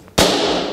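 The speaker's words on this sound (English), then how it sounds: "Why did you pop her balloon?" A balloon pops with one sudden loud close bang that leaves a short broad noisy decay behind it, with no talking.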